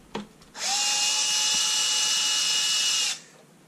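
A cordless power drill unscrews fasteners from the shell of an ADJ Inno Pro moving-head light during a teardown, one steady close whir lasting about two and a half seconds after a brief click.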